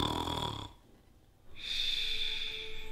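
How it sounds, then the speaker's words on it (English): Raspy snoring with a whistling, wheezy tone, one long rattling breath, a short pause, then another loud drawn-out snore close by. "Are you snoring?"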